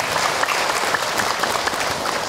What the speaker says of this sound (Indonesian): Tepuk tangan buat ibu yang bertanya.